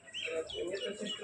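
On an integrated farm, chickens give a brief burst of high, chirpy clucks and calls at moderate distance. Faint voices may sit underneath.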